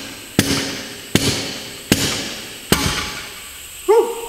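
A sledgehammer striking the steel wheel rim of a Kenworth truck while a tire is being mounted: four loud, evenly spaced metallic blows, each ringing briefly, followed by a short squeak.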